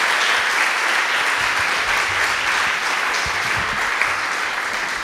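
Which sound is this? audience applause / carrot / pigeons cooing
audience applause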